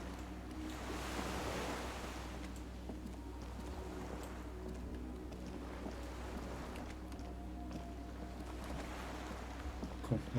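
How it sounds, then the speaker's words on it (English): Waves lap softly at a dock around a swaying skiff in the video game Disco Elysium, a quiet, continuous wash of water over a low ambient hum. "The skiff is swaying on the waves by the dock."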